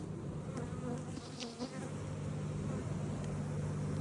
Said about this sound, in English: let the bees go in there